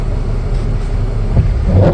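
Cars packed bumper to bumper in crowded traffic give a steady, loud low rumble of idling and creeping engines, with a slightly louder surge of motor noise near the end.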